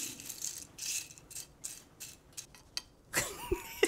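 Crisp fried garlic chips are separated and moved around, making light, dry rattles and small clicks, faint and close, with scattered brittle taps and no voices.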